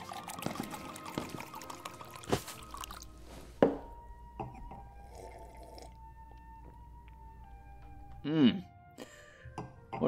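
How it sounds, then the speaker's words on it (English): Moet Chandon champagne poured into a glass, a soft liquid trickle with faint drips running under a low steady hum, broken by a couple of brief clinks near the start and end. "Pour me a glass, would you, darling?"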